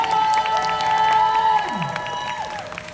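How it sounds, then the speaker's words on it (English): A convention panel crowd at a horror fan event gives steady applause mixed with cheers and shouts, loud at first and easing slightly toward the end. "let's give a big round of applause."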